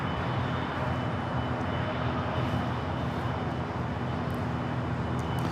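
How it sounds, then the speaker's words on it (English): An American Airlines Boeing 787-8 Dreamliner touching down on a runway at Los Angeles gives a steady, loud broadband engine roar with a faint high whine, continuous and alone. "787-8 Dreamliner that touched down on 24 right, coming in from Dallas-Fort Worth"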